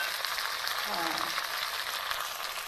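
Tomatoes tip into onions already frying in a pan in a home kitchen, giving a steady close sizzle with a brief stirring rustle partway through, no talk over it.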